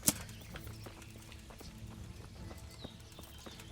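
Horse hooves clip-clop in the medieval video game Kingdom Come: Deliverance, a steady, fairly faint rhythm of hoofbeats following a sharp knock at the start.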